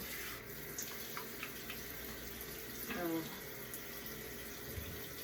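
Water runs steadily from a bathroom tap into a sink during a nighttime face-washing routine, a continuous close rushing hiss that lasts the whole moment with slight swells in level.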